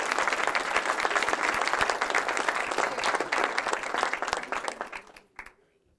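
Audience applause for Shannon at a community art and quilt debut gathering: a dense, sustained wash of many hands clapping for about five seconds, then quickly thinning to a few last claps and silence.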